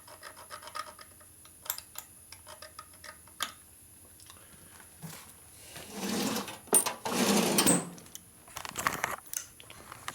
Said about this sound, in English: Use a carbide scribe. Carbide, solid carbide scribe.